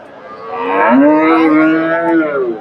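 A Friesian dairy cow at a cattle market gives one long, loud moo that rises and holds before trailing off, close by.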